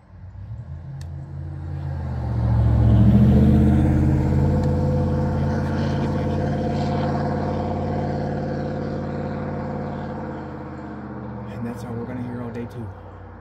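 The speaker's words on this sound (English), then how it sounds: "Nothing but roaring trucks all day long." Heavy trucks roar past outside, a loud, low rumble that swells to a peak after about two seconds, then holds as a steady drone before easing slightly, with voices over it.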